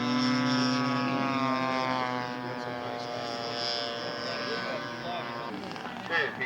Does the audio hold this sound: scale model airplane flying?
yes